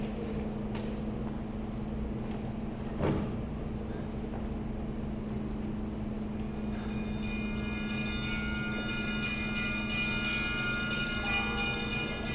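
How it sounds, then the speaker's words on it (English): Bells ring during a stage performance of Pride & Prejudice, sounding as faint, sustained metallic tones that come in partway through over a low, steady room hum. "Bells."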